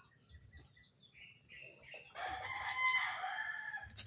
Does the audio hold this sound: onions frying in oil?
no